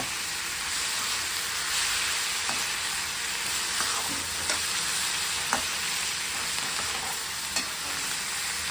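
Vegetables with carrot stirred and frying in hot oil for upma: a steady, bright sizzle with repeated scraping stirs of a spatula in the pan, close and uninterrupted by talk.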